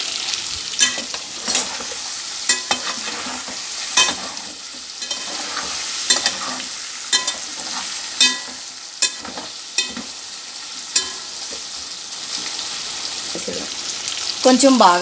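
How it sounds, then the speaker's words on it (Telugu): Paneer and potato pieces roasting in a pan of spiced oil, a constant sizzle broken by repeated sharp spatula scrapes and taps, with someone talking intermittently over it. "కొంచెం రోస్ట్ అయ్యేంత వరకు కొంచెం ఇలా వేపుకోవాలండి"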